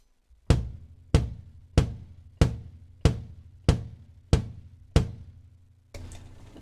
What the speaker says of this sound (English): oh, bass drum sounds like this.